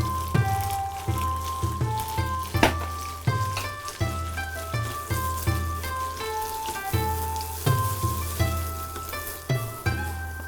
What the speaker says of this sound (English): Our pan is nice and hot. We're going to put some bean sprout.